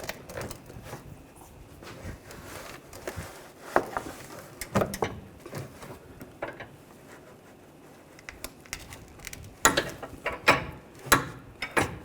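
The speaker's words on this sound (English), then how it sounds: "get on there with a torque wrench, and you want to torque that to 62 foot-pounds" Ratcheting clicks and metallic taps from a torque wrench tightening a front sway bar link on a 2011-2017 Nissan Juke, coming in irregular bursts of short clicks, with louder clusters near the end and no talking.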